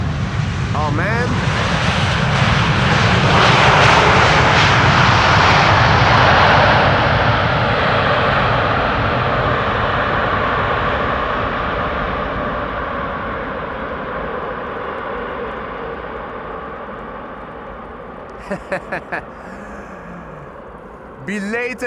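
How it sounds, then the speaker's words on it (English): Cargo airliner landing on runway 18R at Amsterdam Schiphol, a loud broadband engine roar that swells early as the thrust reversers engage, then slowly fades and thins, with faint clicks near the end. "Belated use of the thrust reversers. A little too late and also not full reverse thrust by the sound of it"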